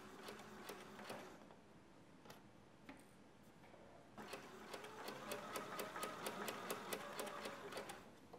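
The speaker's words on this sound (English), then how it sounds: "stitching this seam is a little awkward" A sewing machine stitches a set-in coat sleeve seam with a steady rapid ticking that pauses, then resumes faster and more continuous, faint and close without any talk.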